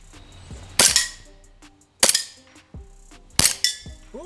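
Three sharp, loud cracks from an airsoft Glock 19X pistol, spaced about a second apart and fired close by, each with a brief clattering tail.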